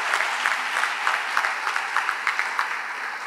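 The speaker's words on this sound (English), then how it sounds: "let's give them a round of applause" A press-conference audience at Missouri State University applauds the search committee, a steady burst of clapping from many hands at close-to-mid distance.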